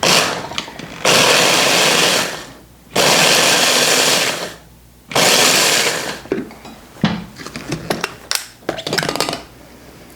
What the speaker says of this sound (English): We're just going to pulse this a few times to crumble up the graham crackers.